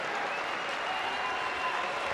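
A crowd applauds at an international judo tournament for police and army forces, a soft, distant, even patter of clapping that holds steady without a break throughout.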